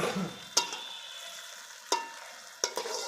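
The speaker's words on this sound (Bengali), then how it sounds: "এরকমভাবে আস্তে আস্তে করে নাড়িয়ে কষিয়ে ফেলতে হবে।" Chicken being stirred and fried in a pot for morog polao, with a soft sizzle underneath and three sharp scrapes of a spatula against the pot, spaced apart, fairly quiet and with no talking.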